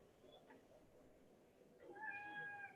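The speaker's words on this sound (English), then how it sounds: "That's a cat." A cat meows nearby in a blacksmith's forge where a spoon is being forged, giving a faint short call followed by a louder, drawn-out tonal meow over low background hum.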